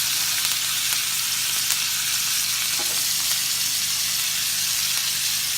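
Steady, close frying sizzle of thyme and garlic in a hot pan, a continuous bright hiss with faint crackles and no pauses throughout.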